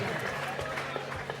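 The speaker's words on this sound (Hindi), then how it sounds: "जोरदार ताली बजाइएगा" Audience applause at a Jain religious gathering at Golakot, a steady dense wash of clapping throughout, fairly loud and even, with voices mixed in.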